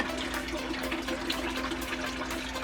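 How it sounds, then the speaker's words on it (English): Aquarium tank water filling a bucket, a soft continuous rushing and trickling of water at low level with a faint steady hum underneath, no talking. "get a bucket full of water."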